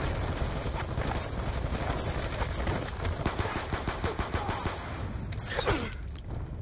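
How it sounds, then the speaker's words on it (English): Rapid bursts of automatic gunfire in Call of Duty: Black Ops II crackle in quick succession against a low rumbling background, with a whooshing effect toward the end. "Gunshots came from inside."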